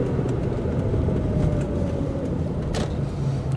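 A 2003 Ford SVT Cobra driving after a downshift, heard from inside as a steady, fairly loud engine and road drone with no talk over it.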